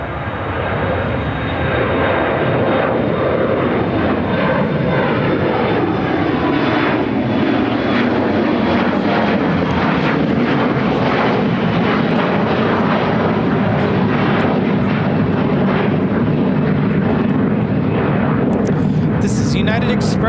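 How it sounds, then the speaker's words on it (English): A United Express Embraer E175 regional jet operated by SkyWest roars down the runway on its takeoff roll at Chicago O'Hare, a loud, steady engine rumble with a descending whine as it climbs away, with people talking over it. "United Express, operated by SkyWest Airlines 5228, taking off to Columbus on the E175."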